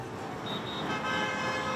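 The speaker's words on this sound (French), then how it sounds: "Aux heures de pointe, comme dans toutes les grandes villes chinoises, ces concerts de klaxons." Car horns honking repeatedly in a rush-hour traffic jam in a big Chinese city, a dense wash of street traffic noise beneath steady, overlapping toots.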